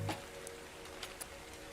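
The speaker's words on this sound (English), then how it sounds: "Get rid of the rain." Steady soft rain patters in the survival game ARK, a faint continuous hiss broken by a few small distinct drips, with no voices.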